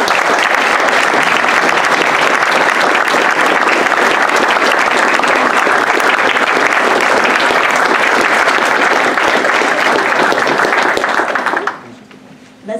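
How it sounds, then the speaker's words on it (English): A crowd at a Hanover Public School District alumni hall of fame induction ceremony gives the inductees dense, loud, sustained applause that roars evenly for about eleven seconds, then cuts off abruptly into near silence. "Let's give another round of applause to all of our newest inductees."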